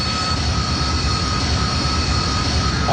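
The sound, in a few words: Harrier jump jet engine in hover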